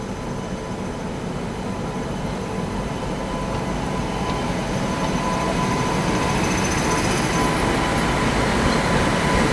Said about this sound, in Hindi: वडोदरा शेड का web 7, Barauni Bandra terminus Awadh express